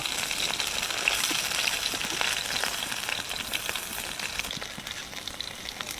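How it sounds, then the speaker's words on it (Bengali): Bombay duck (lote) fish frying in hot oil, giving a steady, dense sizzle with faint crackles throughout, no voices. "আরও মিনিট 3 মতো এই মাছগুলোকে ভেজে নেবো।"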